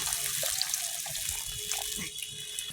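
Running tap water splashes steadily into a sink as onions are rinsed during home cooking, a continuous close wash with small clinks and no talking.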